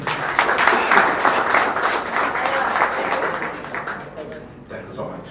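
Applause from an audience at a political alliance gathering, a dense patter of clapping that swells early and gradually fades, mixed with voices.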